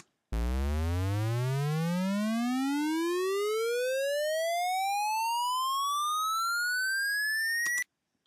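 A smooth synth riser using a saw-triangle waveform sweeps steadily upward in pitch for several seconds, then cuts off abruptly, with no voices.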